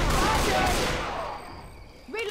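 Rapid machine gun fire in a cooperative zombie shooter game, a dense burst of close, loud shots that fades over two seconds, followed by a brief voice at the end.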